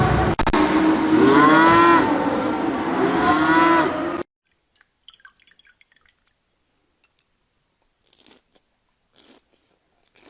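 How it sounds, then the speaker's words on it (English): A single long, loud moo from a farm cow with a rising and falling pitch fills the first four seconds, followed by near silence with faint scattered ticks. "These are our cows."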